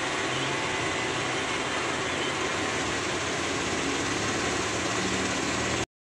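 Engine of a Suzuki Karimun Wagon R with a severe vibration fault, heard idling up close at the front of the car as a steady low rumble with a constant hum, ending in sudden silence.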